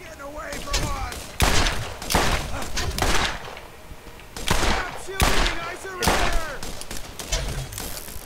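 Enemy gunfire in Borderlands: loud bursts and volleys of shots arrive in several separate clusters with short gaps between them, and sharp impacts and high ringing tails layer over them.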